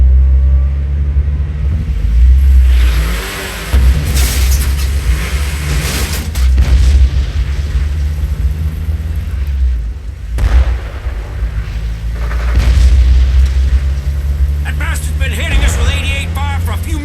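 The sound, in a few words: artillery shelling the woods, Brothers in Arms Hell's Highway video game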